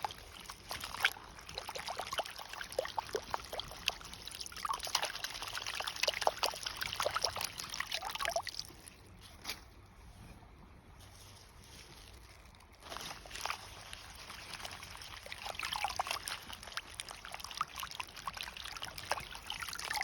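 Water trickling and splashing while vegetables are rinsed outdoors, a faint uneven stream with small sloshes that pauses briefly midway and then resumes.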